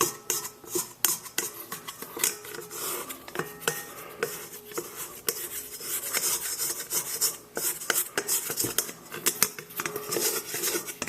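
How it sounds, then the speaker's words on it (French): A plastic dough scraper rasps around the sides of a stand mixer bowl holding soft pizza dough, a continuous run of close, scratchy scraping strokes with irregular bursts and no talking. "on va aller nettoyer avec une corne le côté de notre bol pour que tout se nettoie bien comme il faut"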